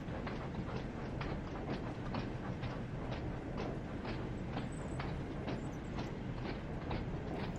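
A steam train chugs steadily along with regular rhythmic puffs and clacks over a dense mechanical rumble, sounding fairly close and continuous throughout.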